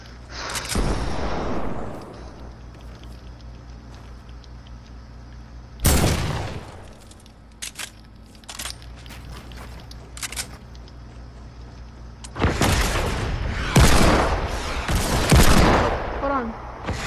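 Fortnite weapons in Creative Mode let off loud bursts of gunfire, with separate volleys near the start, the middle and the end, plus scattered single cracks in between, heard alone against quieter game ambience.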